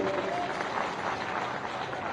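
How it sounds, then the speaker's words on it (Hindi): A political rally crowd applauds a member of parliament, a continuous wash of clapping that stays steady throughout, with a voice faintly heard beneath it. "उनका ताली बजा के आप अभिनंदन कीजिए"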